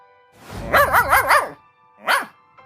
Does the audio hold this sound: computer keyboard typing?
no